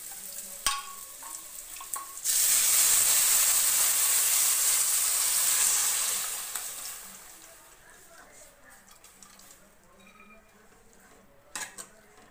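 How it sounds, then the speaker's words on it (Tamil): Horse gram rasam boiling in a pot on the stove gives a loud, steady bubbling hiss that swells for a few seconds and then fades, leaving faint clinks and quiet kitchen sounds. "நல்லா ஒரு கொதி கொதிக்கட்டும்."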